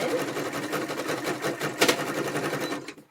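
A sewing machine runs a steady zigzag stitch around the edge of a piece of fabric, a continuous close mechanical whir with a brief louder burst near the middle before winding down at the end.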